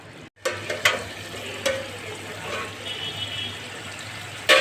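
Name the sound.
mutton liver cooking in pan with added water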